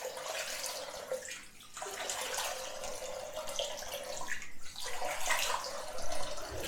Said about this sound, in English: So let's just wash the face off.